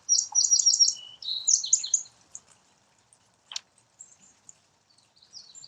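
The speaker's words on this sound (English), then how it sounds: "Birds sing and call to each other, especially in the spring." Small birds singing and calling outdoors in spring, with quick bright trills and chirps in bursts at first, then sparse scattered calls with a sharp single note in the middle, all fairly close and alone.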